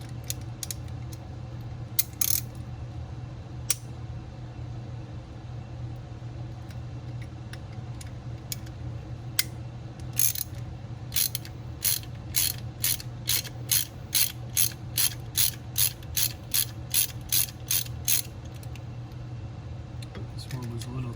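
A ratchet driving a T20 Torx bit to remove the throttle position sensor screws on a Jeep Wrangler YJ, with sparse clicks early and then a fast, even run of close ratcheting clicks over a low hum.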